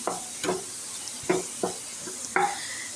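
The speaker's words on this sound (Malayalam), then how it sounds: "നമുക്കിത് നല്ലോണം വഴറ്റിയെടുക്കാം" Coriander, capsicum, ginger, garlic and green chilli sautéing in a kadai, with a steady soft sizzle under a few distinct scraping stirs of a spoon against the pan.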